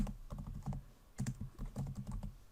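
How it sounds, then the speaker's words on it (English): Typing on a computer keyboard while entering text into a spreadsheet cell in Excel Online, with quick close key clicks in short irregular bursts and no speech. "And I'm going to type into that cell,"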